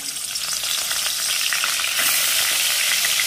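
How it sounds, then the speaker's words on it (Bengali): Snakehead fish heads fry in hot oil in a wok with a loud, close, continuous spattering sizzle that grows brighter and stronger partway through; nobody speaks. "ভালো করে কড়া হয়ে ভাজা হবে মাথাগুলো।"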